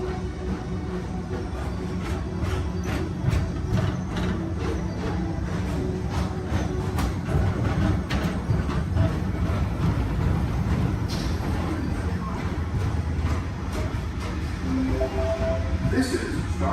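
Space Mountain ride vehicles at a Disney park rumble past continuously as a steady mechanical roar with faint clacks, while a recorded voice talks over the noise.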